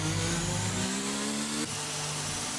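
A Formula 1 car in a racing video game enters the pits, its engine a loud steady harmonic drone that steps down in pitch as it slows for the pit lane, with no talk over it.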